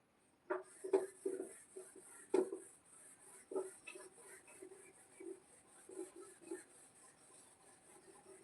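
Rubbing and wiping across a board to erase writing in a classroom, soft scrubbing strokes in uneven bursts, close but quiet, with a steady high hum behind it.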